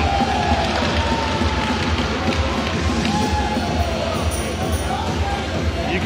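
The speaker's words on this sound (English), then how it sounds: "You can hear the Friars bench cheering there" Providence Friars players on the bench shout and cheer during a Division 2 college hockey game against the Rowan Profs, a steady crowd-like roar under an arena hubbub with a commentator's voice on top.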